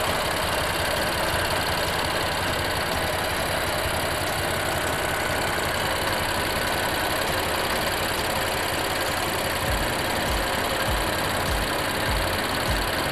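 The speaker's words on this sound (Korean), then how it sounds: "엔진 소리 일정하네요" A BMW M4 F82 convertible engine idles steadily and loudly up close in the open engine bay, a constant rumbling drone with slight knocking texture and no voices.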